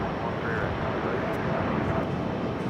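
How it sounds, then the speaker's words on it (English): A Frontier airliner roars on its takeoff run from runway 13 right at JFK, a steady broadband engine rumble heard at a distance, with a voice faintly present beneath it. "So it's a takeoff"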